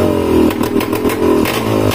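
A Honda 125 motorcycle engine idles just after starting, a loud, close, fast, even putter with a slight mechanical clatter and no voices.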